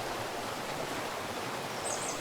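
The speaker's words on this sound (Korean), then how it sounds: "약수천에서 풍요롭게 쏟아지는 계곡 물줄기" Valley stream water gushing steadily at Yaksucheon near Baekyangsa temple in Jangseong, a continuous broadband rush with no break, close and even, with no voices.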